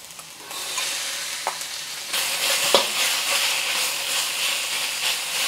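Pork is added to a hot pan beside fragrant garlic and stirred for moo shu pork. A sizzle jumps louder partway through and runs on as a steady, close hiss, with occasional scraping clicks.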